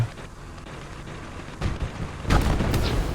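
Muffled bazooka fire in the video game Gates of Hell multiplayer: a soft thump, then a louder heavy blast with crackling echoes a moment later, no talking.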